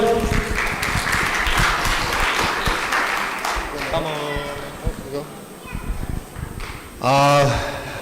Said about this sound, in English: To end today's show, please give them a round of applause.